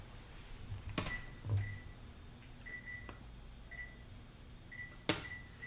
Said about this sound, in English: preheat the oven to 425, sir